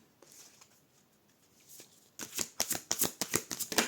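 Tarot cards are shuffled: a quiet stretch with faint handling gives way to a loud burst of rapid, rhythmic riffling and card slaps close to the mic.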